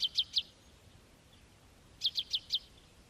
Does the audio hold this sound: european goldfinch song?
yes